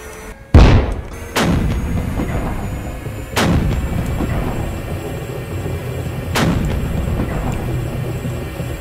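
An enemy tank's main gun fires at the player in the tank game GHPC, four loud booming cannon shots spaced a second or more apart, each with a long rumbling tail.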